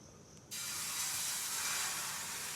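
Tomato omelette batter hits a hot griddle and erupts into a loud, steady sizzle that holds close and even after a brief quieter moment.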